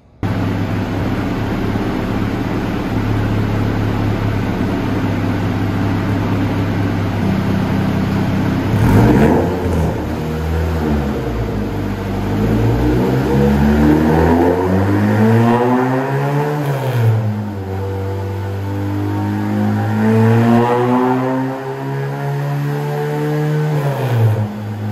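An Ariel Atom's Honda K24Z7 four-cylinder engine on a dyno, droning loudly and steadily, then climbing through repeated rising revving pulls with wavering pitch, close and continuous throughout.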